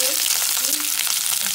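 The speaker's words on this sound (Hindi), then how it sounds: "और अब मैं इसमें ये जो प्याज है वो इसमें डाल दूंगी" Onions fry in a pan for chutney, giving a loud, dense, unbroken sizzle close up, with a faint scrape or two of stirring.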